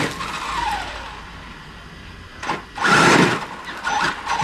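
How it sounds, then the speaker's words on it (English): A two-wheel-drive Traxxas X-Maxx RC truck skids across the ground in sharp, loud bursts of tire scrub, a long hiss easing off before a second, stronger slide near the end. "My useless two-wheel drive X-Maxx."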